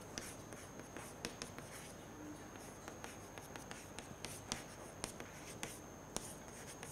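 Writing on a board during a physics lecture produces faint, sporadic taps and short scratchy strokes over a steady background hiss in a quiet room.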